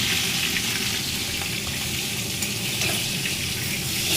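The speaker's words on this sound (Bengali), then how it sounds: "এবারে আমি একটা একটা করে মাছ ছেড়ে দেবো। মাছটা আমি ভেজে নেব।" Fish frying in a hot wok, a dense, steady sizzle of oil crackling close up and continuous throughout, with no talking.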